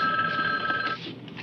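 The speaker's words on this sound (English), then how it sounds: "Can't you hear that phone ringing?" An old-style telephone bell rings once, loud and close, in a 1970s film scene.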